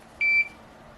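A single short electronic beep, high-pitched and clean, sounds once and then fades into quiet background hiss.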